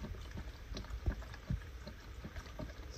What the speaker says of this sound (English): we're putting in some turkey broth